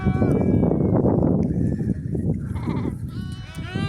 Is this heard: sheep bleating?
yes